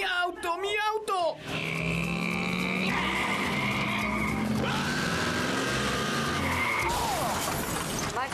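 A car skids during a race, with a long, loud tire squeal and scraping that run for several seconds after a brief, excited shout.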